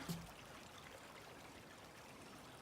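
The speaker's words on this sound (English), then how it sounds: "I got some water, even some running water." Running water of a small forest stream near a trail bridge on the Ouachita National Recreation Trail, a soft continuous trickling and babbling flow, steady and fairly faint with no voices.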